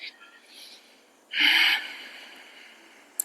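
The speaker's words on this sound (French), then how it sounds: "on peut appliquer Ujjayi, le souffle océanique, donc une respiration sonore avec une légère contraction au niveau de la glotte" Yoga Ujjayi ocean breathing: one loud, hissing breath drawn through a slightly constricted throat, close and clear, with faint softer breaths before and after and a small click at the end.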